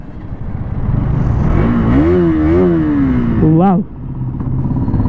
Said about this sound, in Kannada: KTM Duke 200 LED light bike ನ ರೈಡಿಂಗ್ ಎಕ್ಸ್ಪೀರಿಯನ್ಸ್ ಮಾಡೋಣ